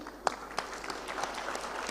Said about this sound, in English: Let's have a big round of applause for Rajshri Krishnamurthy.